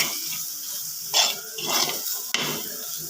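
Spoon scraping and stirring in a pan as fenugreek powder is mixed into frying masala for prawn theeyal, a few short clinks and scrapes close by, no voices.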